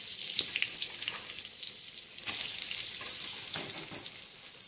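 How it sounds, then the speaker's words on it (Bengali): Mixed winter vegetables, beetroot among them, fry together in oil in a wok, giving a bright, dense sizzle with crackling spits that surges midway, close and without speech. "এবার সব সব সবজিগুলো একসঙ্গে আমি ভেজে নেবো"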